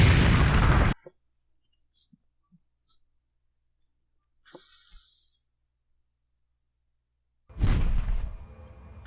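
A mech fires its heavy cannon in MechWarrior 4: Mercenaries, loud blasting bursts at the start and end with a long near-silent stretch between broken by faint clicks and a short hiss.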